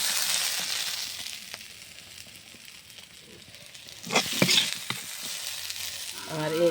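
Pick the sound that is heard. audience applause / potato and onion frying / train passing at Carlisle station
potato and onion frying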